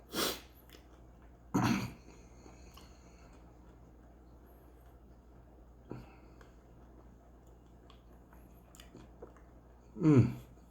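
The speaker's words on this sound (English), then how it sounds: "lot of me chomping and chewing" Chomping and chewing of food, heard as a few short, loud bursts spread through a quiet stretch with no talk.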